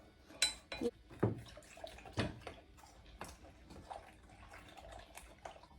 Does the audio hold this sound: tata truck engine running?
no